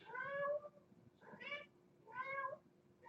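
A cat meows three times in a slow, evenly spaced series, each call drawn out and wavering, heard fairly close against a faint low hum indoors.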